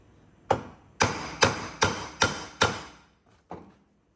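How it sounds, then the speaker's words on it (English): Hammer strikes seat a part during a 4L60E transmission shift kit and servo install: six sharp metallic whacks in quick succession, then a softer seventh after a pause, close and clear with no talk. "I'm going to give it a couple extra little wacky whacks."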